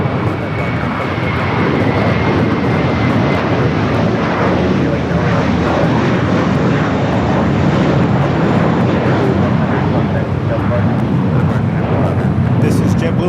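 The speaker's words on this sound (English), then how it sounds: "This is JetBlue 100 going to Fort Lauderdale on a 9-year-old Airbus A321." JetBlue Airbus A321 jet at LAX airport, a loud sustained engine roar and rushing rumble filling the whole stretch, with people talking over it.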